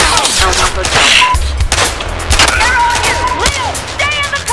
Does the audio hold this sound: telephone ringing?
no